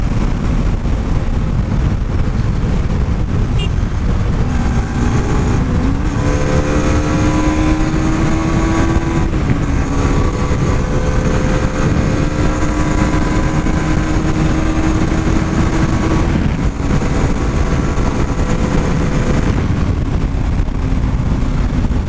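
A Bajaj Pulsar AS200 motorcycle engine with about 20,000 km on it revs hard toward its redline, a loud continuous drone whose pitch climbs steadily, dips briefly, then climbs again without any talk over it.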